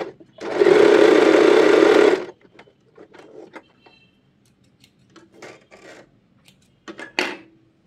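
An Usha Allure DLX sewing machine runs a fall stitch in one loud, steady burst of about two seconds, then stops, followed by faint scattered handling clicks and rustles.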